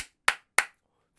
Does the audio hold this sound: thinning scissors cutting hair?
no